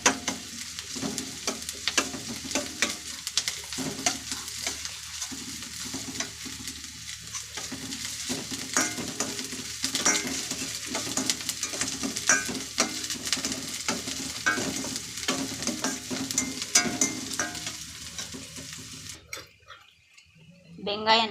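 Onions sautéing in a pan while being stirred for an egg rice dish, a steady close sizzle with scraping stir strokes throughout, under a speaking voice, cutting off near the end.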